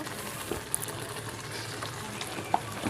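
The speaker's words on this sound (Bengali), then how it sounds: "মশলাটা ভালোভাবে আমি কষিয়ে নেব।" A spice paste for hilsa fish curry fries in a pan with a close, continuous sizzle and occasional light clinks and scrapes from stirring. No one talks.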